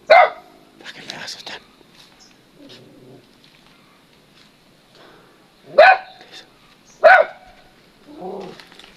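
A dog barks several times in sharp, spaced bursts, close by, with quieter sounds and faint voices in between.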